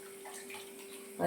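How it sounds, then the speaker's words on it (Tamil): Tamarind water for a bitter gourd puli kuzhambu is poured through a strainer: a soft, steady watery trickle for about a second, then a louder splash at the end. "இப்படியே ஊற்றிடக்கூடாது, வடிச்சிட்டு தான் ஊற்றணும்."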